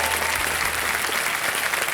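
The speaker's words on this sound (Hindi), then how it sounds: "तालियां बजाएं" A studio audience on the Kaun Banega Crorepati game show bursts into dense, loud applause, an even roar of many hands clapping continuously without a break.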